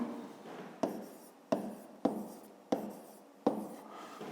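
Pen writing on paper while working a 5th-grade math exercise about cube edges: five quick scratchy strokes spaced about half a second to a second apart, close and quiet, with no talking.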